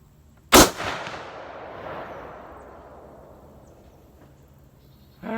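A single loud, sharp rifle shot from a 1917 Enfield chambered in 25-06 Ackley Improved cracks once outdoors, followed by a long rolling echo that fades over several seconds.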